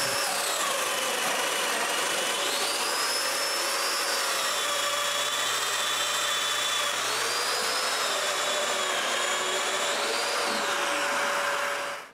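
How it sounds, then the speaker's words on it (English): A Festool-style domino joiner cutting small mortises into cabinet wood panels, its motor whining steadily with shifting pitch over a constant dust-extraction roar, loud and close throughout. "I can cut the last mortises"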